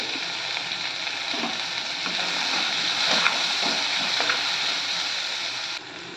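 Karonda berries (kalakkai) sautéing in a pan for a tamarind curry, giving a steady close crackling sizzle with faint stirring scrapes throughout.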